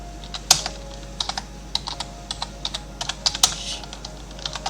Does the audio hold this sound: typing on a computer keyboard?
yes